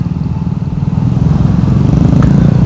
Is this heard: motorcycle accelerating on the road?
yes